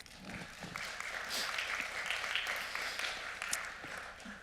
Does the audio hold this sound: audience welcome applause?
yes